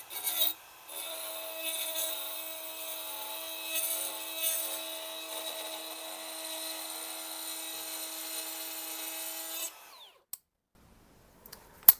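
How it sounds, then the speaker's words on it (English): A rasp filing the cam cover of a 1973 Harley-Davidson Sportster, a continuous close metallic scraping that runs for several seconds, then stops, leaving a few faint knocks. "Maybe I can get a bigger rasp right up in here."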